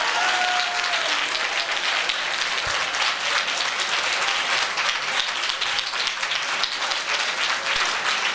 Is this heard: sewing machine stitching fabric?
no